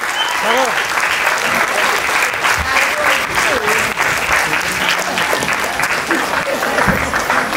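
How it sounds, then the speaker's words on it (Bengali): A large crowd at a stage event claps loudly and continuously for several seconds, a dense wash of applause with occasional voices and cheers mixed in. "সবাই মিলে একটা জোরে হাততালি হবে আমাদের দাদার জন্য।"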